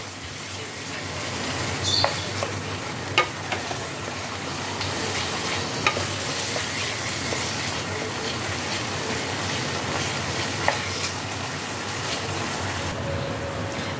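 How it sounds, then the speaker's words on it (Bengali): Paneer bhurji being stirred in a frying pan as the moisture cooks off, a continuous soft sizzle with occasional scrapes and clinks of the spoon against the pan, close and moderately loud. "ততক্ষণ একটু ভালো করে নাড়াচাড়া করতে হবে"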